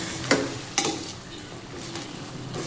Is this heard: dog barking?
no